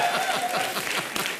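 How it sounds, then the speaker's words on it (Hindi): Studio audience applause on a comedy show, a brief burst of brisk clapping with faint crowd murmur beneath. "जोरदार तालियां होनी चाहिए"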